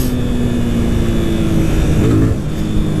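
Yamaha Fazer 250cc or Honda CG 160 motorcycle with original exhaust revving, a loud, steady engine drone held throughout with a brief shift in pitch near the end.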